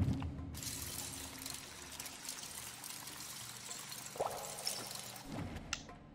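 Faint water pouring and trickling in the Lego Brick Tales video game, a soft steady flow with a few small splashes and clicks, quiet and without speech.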